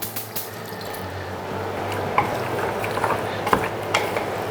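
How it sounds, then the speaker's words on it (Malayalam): A little water is poured and stirred into seasoned pork for a pork fry, a close, steady splashing trickle with scraping and clinks from a pot. "കുറച്ച് വെള്ളം ഒഴിച്ച്, ഓവർ വെള്ളം വേണ്ട"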